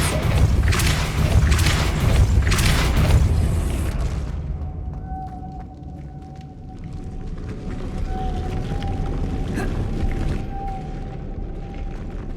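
A Depulso spell cast in Hogwarts Legacy bursts out as a loud booming whoosh with pulsing rumbles for about four seconds, then fades into a low ambient hum with a faint sustained tone.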